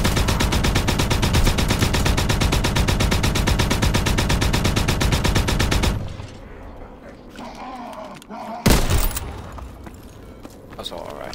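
Austen submachine gun from the Second World War fires a long, rapid automatic burst for about six seconds, loud and close. A quieter stretch follows with voices talking, then a single sharp report.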